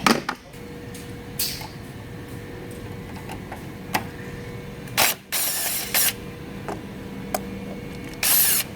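Removing a 12 mm battery retainer bolt on a 2014 Hyundai Elantra, with sparse ratchet clicks, short metallic taps and brief scraping bursts against a quiet background.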